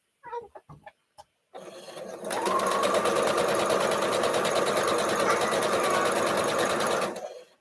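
Sewing machine stitching hunter star quilt blocks runs in one steady, loud burst for about five seconds, preceded by a few short clicks and handling taps.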